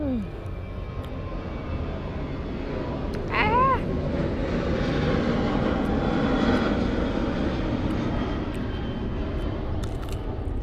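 An airplane flies overhead near an airport behind a house in Thailand, a loud, steady engine roar that swells and sustains through the whole stretch, with a brief animal call partway through.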